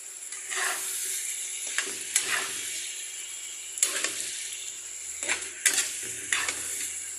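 Vegetable curry frying in a pan under a steady soft sizzle, with a spoon scraping and clinking against the metal in several short bursts, close by and without talk.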